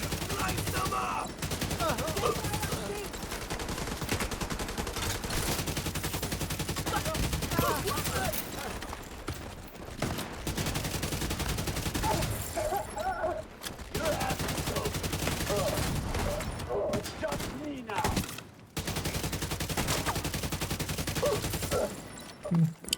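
Dense, continuous gunfire from a video game shootout, with bursts and volleys rattling almost nonstop for the whole stretch and only brief drops, loud and close.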